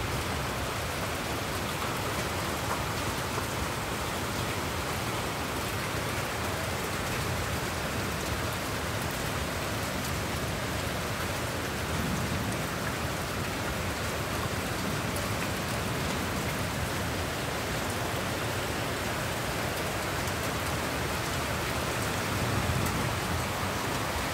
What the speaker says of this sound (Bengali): টিনের উপরে যে ঝুমঝুম করে বৃষ্টি পড়ে